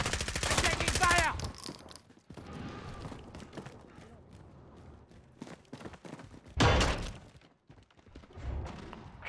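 Automatic gunfire in Call of Duty: Modern Warfare: a dense rattling burst opens, then quieter game ambience, and another sharp burst comes near the middle of the back half.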